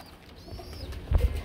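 Beauty pigeons coo softly at a pigeon farm, a low throaty coo rising near the end, with faint background bird calls and no talking.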